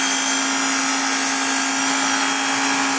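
A Work Sharp powered sharpener grinds a Gerber Gator machete on a coarse P80 belt, a steady, loud, even abrasive whine that runs without a break and throws sparks.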